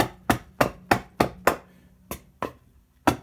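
Adze chopping across wooden end grain, eight sharp, evenly paced strikes about every third of a second, close and clear with a low steady hum beneath.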